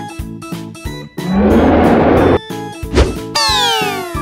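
A cow moos once in a long, loud, drawn-out low call over a plinking synthesized tune, followed by a short thud and a rising musical sweep.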